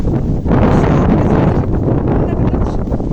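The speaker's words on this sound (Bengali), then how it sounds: "আজকে অনেক বাতাস, সেই বাতাস" Strong wind gusting hard against the microphone under a cloudy, rain-threatening sky, a loud continuous roar and rumble with slight swells, no other sounds standing out.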